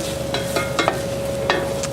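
Onions sauté in a pan for rice pilaf, a steady soft sizzle broken by a few quick stirring scrapes, close and alone.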